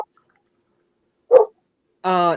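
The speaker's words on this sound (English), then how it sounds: "You mean who's got the dog? I got the dog." A dog in a room gives a single short bark, then a longer whining or yelping cry a moment later, both loud and close against near silence.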